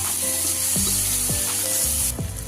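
Dry prawns, washed and soaked, are stirred into a hot pan of Telangana-style curry base, giving a loud, continuous sizzle with several scraping utensil strokes against the pan and a brief drop in the hiss near the end.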